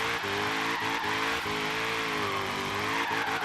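An RTR Mustang drifts in Forza Horizon 3, engine loud and steady with shifting pitch while the tires squeal continuously through the corner, with no talk over it.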